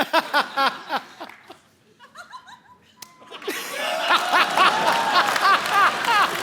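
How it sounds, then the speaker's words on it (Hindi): Studio audience at a comedy show breaking into laughter, with scattered claps and chuckles early on, a brief lull, then a louder wave of mixed laughter and clapping. "इसमें ताली बजाने वाली कौन सी बात हुई?"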